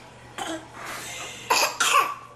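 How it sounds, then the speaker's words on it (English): A few harsh coughs in quick succession, close by, with a quieter rasp between them over a low background hum. "Bad cough."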